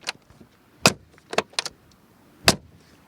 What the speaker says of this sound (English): Also with those door handles with a classic door closing sound.